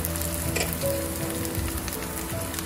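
Capsicum being stir-fried in a pan for crispy dry Manchurian, with steady close sizzling and a few stirring scrapes throughout, no talk.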